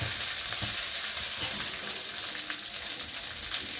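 Chopped onions frying steadily in hot oil in a pan for rice flour upma, a dense continuous sizzle with light stirring scrapes, close and even throughout.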